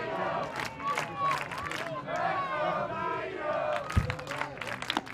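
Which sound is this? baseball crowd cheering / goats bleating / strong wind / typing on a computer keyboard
baseball crowd cheering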